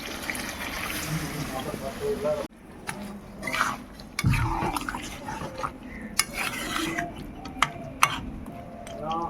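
Mutton in a pressure cooker pot is stirred after spice-rinse water is poured in, with splashing, wet scraping and metallic clinks, a few ticking knocks and drips, and a person speaking intermittently in between.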